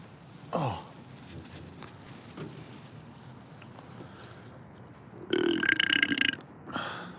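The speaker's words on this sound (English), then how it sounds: "Belchage" A loud, drawn-out burp rips out alone near the end after a long quiet stretch, with a shorter belch-like grunt following and faint outdoor noise underneath.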